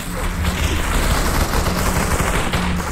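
Bazooka blasts and gunfire in the VR shooter Population: One on Meta Quest 2, heard as a dense, continuous rumble of rapid shots and booms at steady loudness with no pauses.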